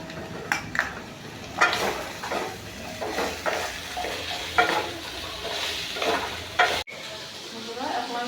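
Carrots and capsicum fry in a pan for chicken soup with a continuous sizzle. A spoon or spatula scrapes and clacks against the pan in irregular strokes, loud and close.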